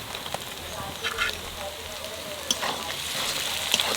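Tomatoes go into ginger-garlic and green chilli paste frying in a pan, giving a soft, continuous sizzle with a few sharper clicks and scrapes of stirring and no talking.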